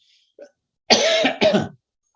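Two harsh coughs in quick succession, close and loud, preceded by a tiny faint sound, then silence.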